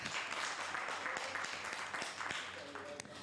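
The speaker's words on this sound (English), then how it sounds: "And they're clapping each other, and they're clapping themselves" An audience at a 2023 intellectual disability forum applauds, a dense and even wash of clapping that continues steadily for a few seconds, heard at a fairly low level.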